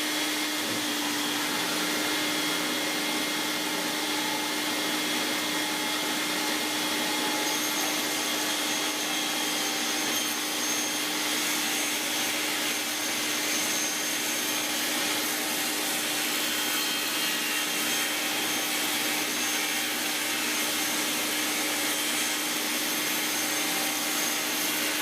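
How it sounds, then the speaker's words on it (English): Table saw blade cutting down a Pearl marching tenor drum shell as it turns against the fence, a continuous loud whining, rasping drone holding steady throughout, close, with no talk. "We're going to keep the shell pressed up against the fence, raise the blade into the shell as we turn it."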